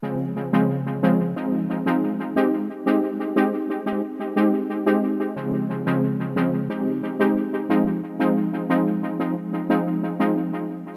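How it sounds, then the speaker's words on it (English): Lush synthwave major and minor seventh synth chords play in a slow, steady progression, warm sustained tones changing every second or so, with a faint high repeating tick above. "the first sound I'm going to show you are the chords,"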